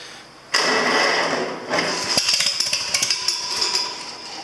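An old International inline six-cylinder truck engine with a 6-volt system cranks and catches, then runs roughly with uneven popping firing pulses, loud and close.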